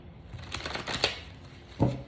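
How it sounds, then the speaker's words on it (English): Tarot cards being shuffled by hand, a short dry riffling flutter followed by a couple of sharper card taps, close and quiet. "I'm going to shuffle them again"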